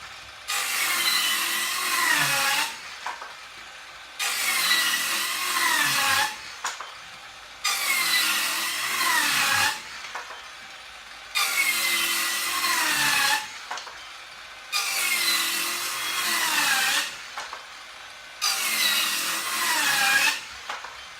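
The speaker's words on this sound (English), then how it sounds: "It did seem as though the Ridgid saw was losing RPMs a while ago, but it's still pushing through." A Ridgid cordless circular saw cuts through a 1x8 wood board in six loud, near bursts of whining blade noise, each about two seconds long, separated by short pauses.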